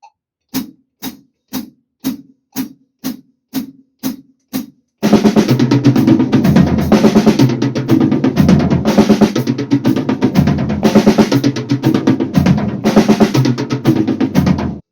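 Drums played around the kit in fast semiquavers at 120 BPM, following eight evenly spaced click-like counts, a dense unbroken roll of hits across snare and toms, loud and close.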